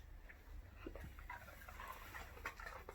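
A female dog whimpers softly and pants indoors, faint, short whines and breaths scattered over a quiet room hum with no talking.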